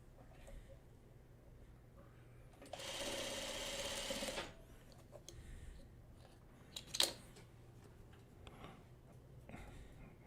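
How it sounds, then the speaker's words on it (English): A sewing machine stitches quilt block pieces in a short loud run of about two seconds, then stops, leaving quiet handling noises and a brief click. "Then I can sew these two in the middle, dark to the center."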